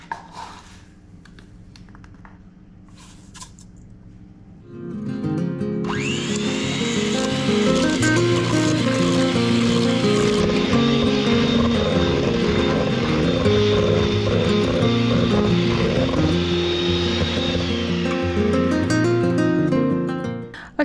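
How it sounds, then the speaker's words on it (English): A small food processor chopper purees melons with raw sugar for homemade melon ice cream. After a few quiet seconds the motor starts up and runs as a loud, steady whirring whine for about fifteen seconds, then cuts off. "my little food processor chopper guy is not exactly very big"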